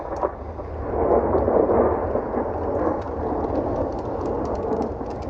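A thunderstorm rumbles around a moored boat, with a continuous low roar of thunder and rain that swells after the first second and stays heavy throughout, with no voices.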